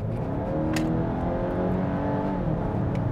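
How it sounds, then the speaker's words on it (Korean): A Volvo XC60 B5 turbo engine revs with a loud, gruff drone, heard from inside the car, its pitch swelling and holding as the turbo spools up, with a few sharp clicks over the rumble. "엔진음이 좀 큽니다."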